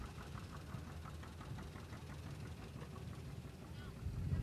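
An AR John Deere antique tractor, the standard version of the A row-crop model, runs at a steady low chugging idle with a rhythmic knock, fairly near, growing slightly louder at the end amid background crowd noise at a threshing show.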